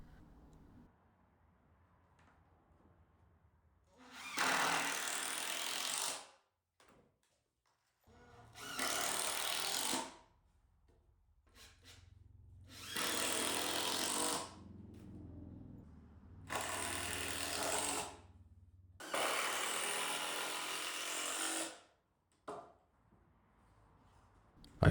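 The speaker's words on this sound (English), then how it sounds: "Here I screw everything together." A power drill or driver runs screws into DIY garage shelving, sounding in five loud bursts of a couple of seconds each, separated by short quiet pauses with faint handling noise.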